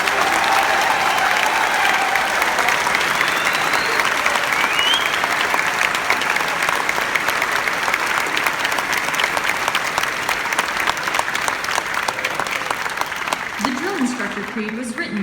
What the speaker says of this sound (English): please join me in a round of applause for the drill instructors of Class 4 TAC 16